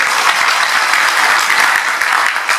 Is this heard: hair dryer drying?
no